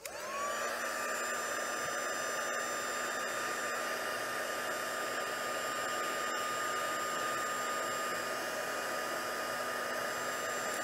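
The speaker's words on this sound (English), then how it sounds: "Now I'm going to quickly use the heat tool." A heat tool blows steadily and loudly for the whole stretch, melting embossing powder on a card-making project; a constant whirring hiss with a faint motor whine, with no talking.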